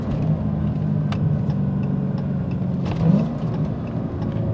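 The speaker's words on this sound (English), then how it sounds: "We do some rev match downshifting here." Dodge Challenger Hellcat with a manual transmission, engine rumbling steadily close by during rev-matched downshifts, with a brief throttle blip swelling near the end and no talking.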